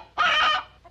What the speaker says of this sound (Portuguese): Galinha, doutor. Galinha!